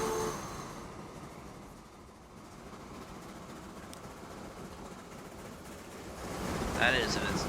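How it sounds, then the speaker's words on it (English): Rail traffic from the Transport Fever 2 simulation game as a train pulls out of an engine house: a steady rumbling, washing noise that runs throughout, with brief brighter squeals and clanks swelling near the end. "now our train can exit the engine house and get started with its first assignments."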